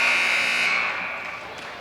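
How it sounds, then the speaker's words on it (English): A buzzer sounds at the end of a quarter in a varsity prep league basketball game, a loud sustained electronic tone that fades out after about a second amid gym ambience. "Harrison, the runner at the buzzer, off the mark."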